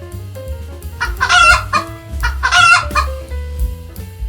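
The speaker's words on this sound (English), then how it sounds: "It makes the sound cluck cluck." A hen on a farm clucks and crows in two loud, close bursts, with softer clucking between them and no talk.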